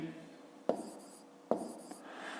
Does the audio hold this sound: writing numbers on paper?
yes